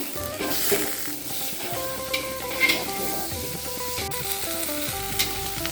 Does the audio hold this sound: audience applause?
no